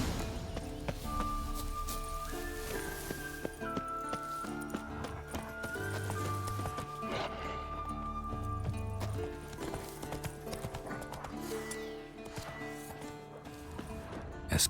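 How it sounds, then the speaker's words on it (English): Scorpion, a horse in The Witcher 3, whinnies and clops its hooves in a game scene, set against a steady layered music bed with sustained tonal notes throughout. "That's his horse. What's its name? Scorpion? Beautiful animal."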